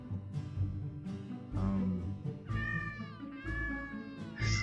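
Cats meowing in the video game Purring Quest: a run of five or six drawn-out, tonal meows in quick succession, close and clear, some rising and wavering, with no talk over them.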